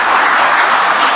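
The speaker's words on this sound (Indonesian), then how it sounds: "Lah tepuk tangannya aja nggak meriah" Brief burst of audience applause at a speech by Megawati Sukarnoputri, a dense, loud spread of hand clapping filling the whole moment.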